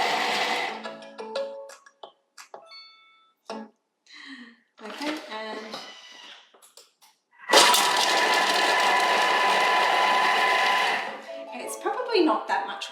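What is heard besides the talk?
kitchen food processor chopping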